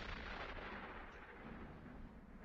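Distant cannon fire in a 1960s western film rolls in as a low, rumbling, sustained boom under quiet ambience, with no talk.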